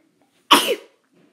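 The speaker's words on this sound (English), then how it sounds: "Oh my God, I gotta sneeze." A single abrupt, forceful sneeze bursts out close to the microphone, followed by near silence.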